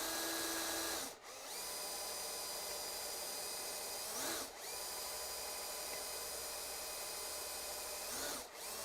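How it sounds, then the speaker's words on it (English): Power drill boring through a wooden keepsake box, a steady high whine held for several seconds at a time, with three brief pauses where the bit is lifted and restarted, close and loud. "And just carefully drill through."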